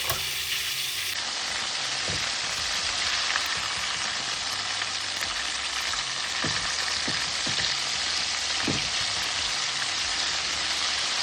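Jamaican chicken frying in hot oil for a crispy fried chicken dish: a loud, continuous bubbling sizzle with scattered pops and crackles, unbroken by voices throughout.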